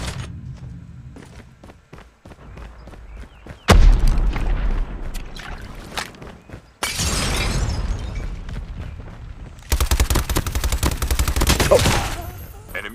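Video game firefight: a Predator missile strike and gunfire erupt in heavy bursts, with loud booming explosions and sustained rapid gun volleys separated by short quieter gaps of scattered shots.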